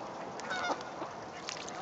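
Faint honking and quacking of waterfowl in the background, several short calls scattered over steady outdoor noise.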